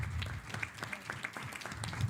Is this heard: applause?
yes